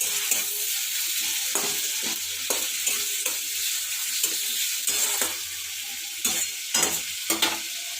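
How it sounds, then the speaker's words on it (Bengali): Chopped tomato sizzles and fries in a pan with fried onion while a spatula scrapes and stirs in repeated strokes over a constant loud frying hiss. "এইবার টমেটো কুচিটা দিয়ে ভালো করে আবার ভাজছি।"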